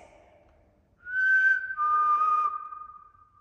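A person whistles a few clear, sustained notes, a rising tone followed by a longer held and gliding pitch, close and fairly loud against a quiet background.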